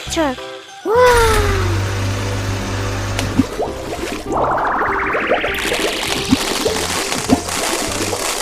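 Toy dump truck engine revving in a playful vehicle race, a rising mechanical whine and rumble with sliding, clattering effects and bright music, continuing steadily under a child-friendly voice calling out.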